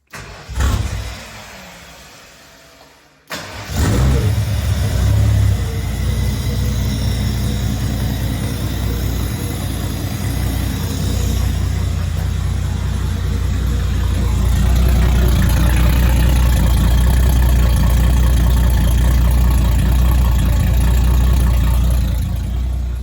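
RB30 turbo engine in a VN Commodore cranks briefly, cuts out, then fires up and settles into a loud, steady, rumbling idle that runs close by for about twenty seconds with no talk.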